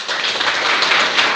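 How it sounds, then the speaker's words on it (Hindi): Children clapping in a government school classroom in Katihar, Bihar, a short, dense patter of many hands applauding together, close and fairly loud with no talking over it. "तो ताली बजाओ तो"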